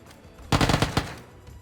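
Rapid burst of micro Uzi automatic fire in the video game PlayerUnknown's Battlegrounds, one short loud volley of several quick shots standing alone over a faint background.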